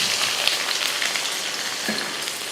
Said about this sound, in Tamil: இதில் வெங்காயம் சேர்த்துக்கலாம். நான் வந்து சின்ன வெங்காயம் தான் சேர்க்குறேன்.